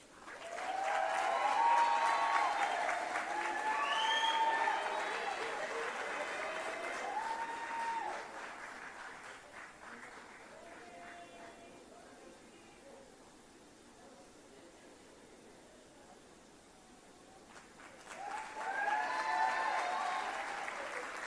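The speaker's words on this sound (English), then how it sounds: "Folks, let's give one more hearty round of applause to the graduates." An audience applauds the graduates at a graduation ceremony, a dense wash of clapping that swells loudly, thins to a softer patter midway, then surges again near the end.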